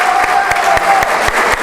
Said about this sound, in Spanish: le brindamos un aplauso a Mabel.